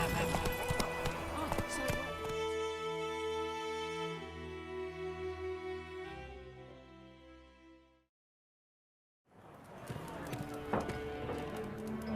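Horse hooves clip-clop in The Witcher 3 at a gallop, a steady rhythmic beat under game music and voices, fading out into a brief silence before resuming with ambience.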